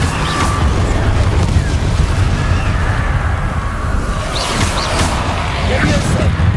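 An Incendio fire spell cast in Hogwarts Legacy: a loud, dense roaring rush with booming bursts, filling the whole stretch of busy game sound, with voices mixed underneath.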